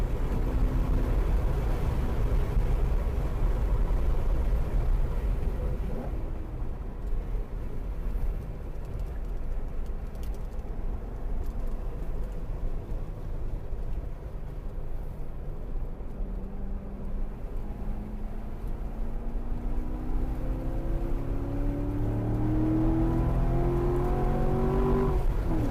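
A C7 Corvette Z51 in track mode at Autobahn Country Club drones steadily from inside as it drives the full circuit, its engine note climbing and rising sharply in pitch near the end as it accelerates hard.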